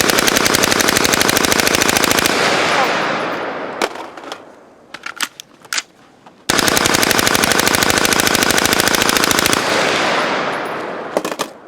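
An LMT rifle firing in long, rapid automatic bursts until its barrel overheats: two sustained, loud strings of shots separated by a pause with scattered single cracks and clatter.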